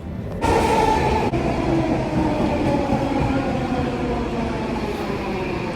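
A moving train rumbles and hums continuously from the inside, a steady, fairly loud ride with a sharp click near the start and no talking.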